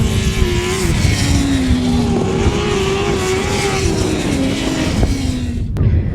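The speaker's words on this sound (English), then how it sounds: "So race 12 completing the first leg rides for the 1000cc sidecars" 1000cc sidecar outfits race on a grasstrack, with loud, continuous engine roar and rising and falling revs as the machines pass nearby. Crowd and track noise sit underneath.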